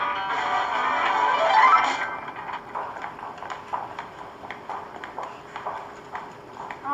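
Horse hooves clip-clop steadily at a walking pace, moderately close and fairly quiet, in a regular alternating rhythm after a brief burst of higher clatter at the start.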